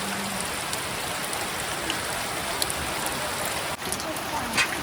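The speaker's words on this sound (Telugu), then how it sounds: "గట్టిగానే కురిసింది వర్షం అయితే." Heavy rain pours steadily over a hill canal during a fishing outing, a dense, even hiss of drops throughout with a brief dip and a splash near the end.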